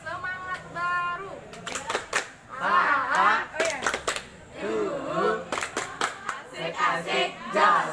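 A classroom of students claps in quick bursts of sharp hand claps. Lively chanting voices mix in and out between the claps.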